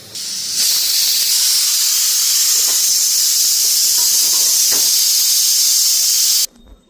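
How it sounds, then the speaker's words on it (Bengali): Tea water boiling in a pot with sugar and tea leaves added: a loud, steady hiss like steam that holds for about six seconds before cutting off abruptly. "তো এখানে চায়ের জল ফুটে গেছে, চিনিটা আগেই দিয়ে দিছি।"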